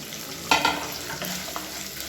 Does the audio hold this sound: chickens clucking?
no